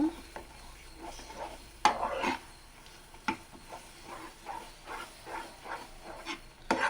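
A utensil scrapes and stirs through a thick mango mixture in a pan, with a quiet sizzle and irregular knocks against the metal.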